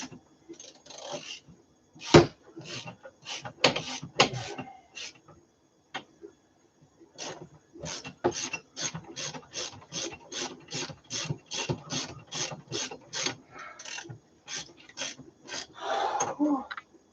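A wrench rasps and clicks in quick bursts while a bolt is worked loose from a bracket. The strokes are close and rhythmic, separated by short pauses, with no talk.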